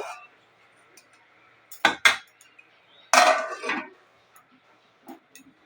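A lid placed on a cooking pot of ridge gourd and potato curry, with a couple of close metallic clanks and a scraping rattle, then quiet kitchen clinks.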